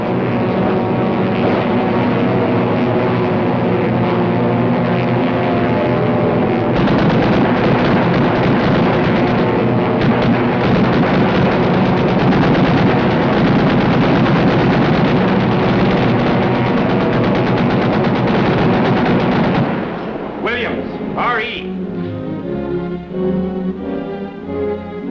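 Aircraft rear gunner's machine gun firing at a tow target in 1943, a long dense burst over loud droning engines, then the firing cuts out and the engine roar carries on alone.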